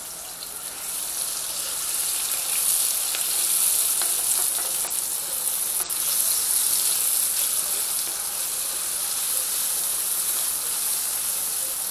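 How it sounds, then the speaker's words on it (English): Rice and vegetables fry in a pan, a loud, dense, hissing sizzle that holds steady throughout, with faint scraping from stirring underneath. "I'm going to stir this again"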